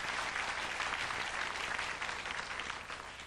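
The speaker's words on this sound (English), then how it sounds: "they applaud because he sews" A game show studio audience applauds steadily, a dense wash of clapping that holds at an even level throughout and tapers slightly at the end.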